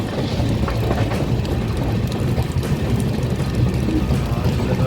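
A train rumbles into Chiplun station on the Konkan line in heavy rain, a broad steady roar of wheels and downpour close by and loud throughout, with no voices.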